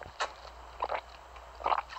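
Crunchy chewing of a crisp food in an ASMR recording, three short close bites spaced across the moment, fairly quiet with no talk over it.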